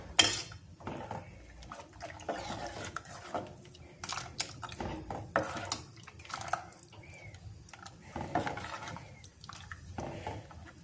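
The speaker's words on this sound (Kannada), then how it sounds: "ಮಿಕ್ಸ್ ಮಾಡ್ಕೊಳ್ಳೋಣ ಇವಾಗ" A spoon stirs spices into tomato rasam in a cooking pot, giving soft scraping and occasional metallic clinks against the pot that repeat irregularly over steady low background noise, with no talking.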